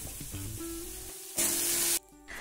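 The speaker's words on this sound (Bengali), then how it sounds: "পেঁয়াজটা ভেজে নেব।" Chopped onions drop into hot oil with a dry red chilli for a village-style chicken curry, giving a sudden loud hiss that lasts about half a second before settling back down.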